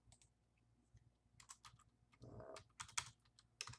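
Computer keyboard typing as an address is entered into a form, irregular bursts of close, crisp key clicks with short pauses between groups of strokes, quiet and without talk.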